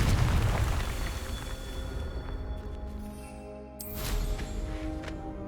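Confringo explosion spell cast in Hogwarts Legacy, a loud rumbling boom that opens the clip and fades, followed by a second sharp blast near the end, with no voices.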